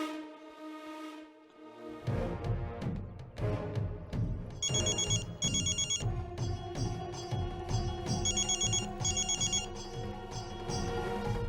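A telephone rings with a bright repeating electronic ringtone in short bursts over a loud, dense music score, fairly prominent but partly buried.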